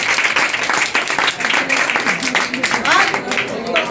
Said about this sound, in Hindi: तो उनके लिए भी एक बार जोरदार ताली आप लोग बजा दीजिए।